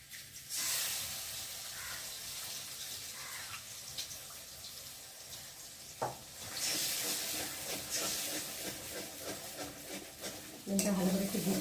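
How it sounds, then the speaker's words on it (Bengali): An egg fries with potatoes in a pan, giving a steady broadband sizzle and hiss with stirring and scraping throughout, growing louder near the end; no one speaks. "ডিমটা ভালো করে একটু ভেজে দিই। আলুর সাথে মিশিয়ে দিই ডিমটাকে।"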